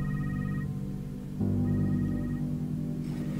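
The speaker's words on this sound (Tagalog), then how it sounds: "Pwede bang patayin mo yung cellphone mo?" A cellphone rings at home during a family meal, a steady electronic ringtone of repeating tonal notes that shifts pattern midway, moderately loud and with no voices over it.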